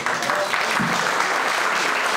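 Strong applause from a crowd greeting a Galatasaray jersey presentation at a sports event, steady and loud throughout with a voice faintly underneath.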